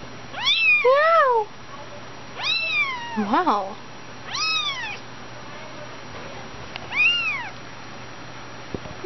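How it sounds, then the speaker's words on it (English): A cat meowing indoors, several drawn-out, rising-and-falling calls spaced a couple of seconds apart, close and fairly loud, with a person briefly speaking at one point. "Meow. Meow. Meow."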